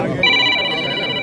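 A telephone rings with steady, high electronic tones that start just after the opening and hold to the end, under murmuring voices in a state legislative assembly chamber.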